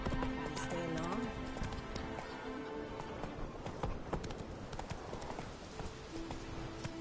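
Galloping hooves of Roach the horse in The Witcher 3: Wild Hunt drum steadily throughout, mixed with a whinny, music and game ambience, with no speech.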